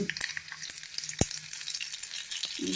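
Steady high crackling sizzle of a spice tempering frying in hot oil for okra buttermilk curry, with a few sharp pops and clicks.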